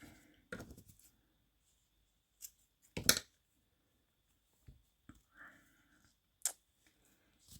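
Scissors snip through sewing thread during a hand-sewing project: a few sharp, quiet cuts spaced several seconds apart in an otherwise silent room, with no one talking.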